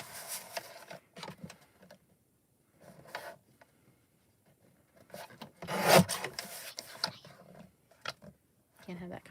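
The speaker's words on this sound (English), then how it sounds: "Just gonna slightly trim the white edges off of here." Card paper being trimmed along its white edges, short rasping cuts and rubbing scrapes in separate bursts with quiet gaps between, one longer louder stroke in the middle, close up.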